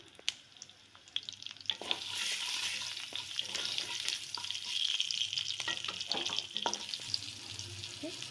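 Dry red chillies, bay leaf and panch phoron sputter in oil, starting quiet then swelling into a close, steady sizzle with sharp pops and stirring scrapes throughout.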